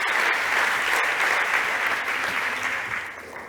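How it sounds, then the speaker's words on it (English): Loud, steady audience applause at a startup competition stage, a full crowd clapping continuously and gradually fading toward the end. "Okay, big applause for Tim."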